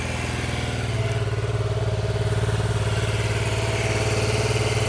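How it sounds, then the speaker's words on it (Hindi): A BMW F450GS motorcycle engine idling close by, a steady, even low thrum with a fast regular pulse and no other sounds. "अभी बाइक आइडियल कर रही है।"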